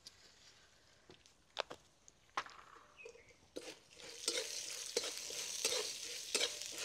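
Peanuts, coriander seeds, cumin and asafoetida are stir-fried in a pan, making soft scrapes and rattles that turn into a steady, brighter sizzle partway through, with scattered taps of the spatula.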